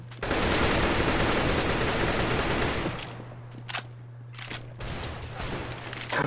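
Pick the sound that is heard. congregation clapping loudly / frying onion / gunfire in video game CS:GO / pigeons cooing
gunfire in video game CS:GO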